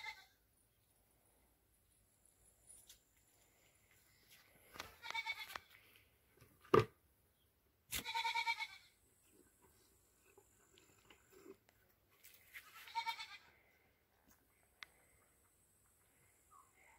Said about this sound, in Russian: Ну, Филя, кто это, коза?